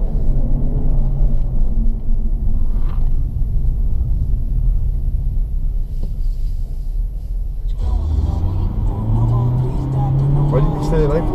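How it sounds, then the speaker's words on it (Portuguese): Car heard from onboard, its engine rumbling steadily then climbing in pitch as it accelerates hard at high revs, loud and close, with someone talking over it. "Acelerar e com giro alto."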